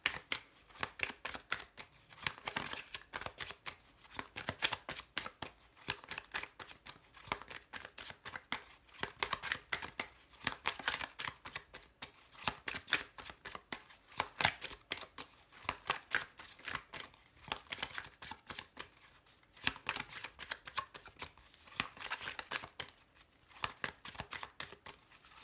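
Oracle cards being shuffled by hand, a steady run of riffling, flapping card sounds close up for the whole stretch, with no talking.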